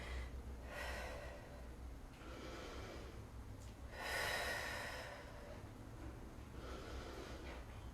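Steady breathing during a small-space yoga workout, with audible exhales and inhales in slow alternating bursts, fairly close and soft, no talking.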